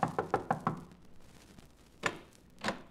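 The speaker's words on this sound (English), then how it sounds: "Knock on the door, Mark." Someone knocks on a door in a classic radio drama: a quick run of five sharp raps, then a pause and two more spaced knocks, close and clear with no voices.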